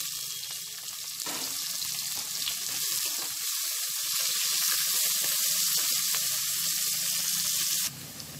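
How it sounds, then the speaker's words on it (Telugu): Chopped onion, green chilli and curry leaves fry in hot oil after mustard seeds, giving a steady, loud, close sizzle that runs unbroken for several seconds, with no talking. "ఉల్లిపాయ ముక్కలు కొంచెం వేగాలండి, ఈ కలర్లో వేగాలి."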